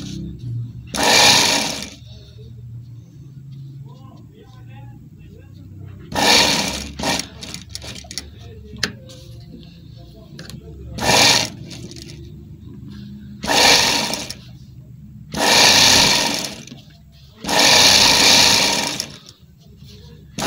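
A sewing machine stitches a side pocket onto a gents kurta in several separate loud whirring bursts of one to two seconds, with quiet pauses and soft fabric handling between runs.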